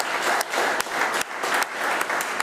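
Loud, close audience applause at a business report launch event, dense clapping with brief dips in rhythm as it carries on steadily.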